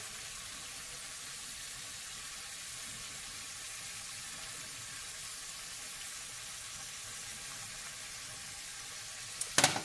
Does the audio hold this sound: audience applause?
no